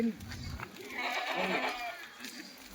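Goats bleat in a wavering, drawn-out call amid background voices and farmyard noise.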